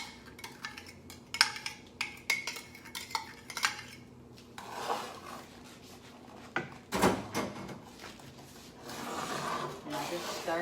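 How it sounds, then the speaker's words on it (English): A spoon stirs washing soda into a batch of homemade laundry detergent, giving irregular scraping, clinking and rubbing against the container, loud and close, with a brief louder clatter partway through and steadier scraping toward the end. "I'm just going to slowly stir that in like I did before"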